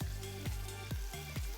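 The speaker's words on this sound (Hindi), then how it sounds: "ये मैंने आपके ये कुलचे आपके फ्राई कर दिए" Kulcha bread frying in a pan, a steady bright sizzle that pulses in regular swells about twice a second, close and continuous with no voices.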